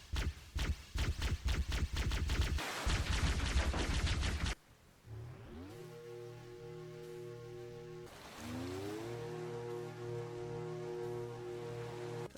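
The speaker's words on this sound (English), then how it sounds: "it uses the OG plasma pistol sounds" Rapid bursts of Halo plasma pistol fire from the video game, a quick string of sharp repeated shots followed by two rising, humming energy charge-up tones with sustained buzzing.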